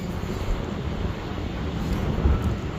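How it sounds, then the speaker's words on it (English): Strong wind roars and buffets across the microphone in an open park, a loud, continuous rushing noise with gusty low rumbles and no other clear sounds. "Wind's blowing hard too"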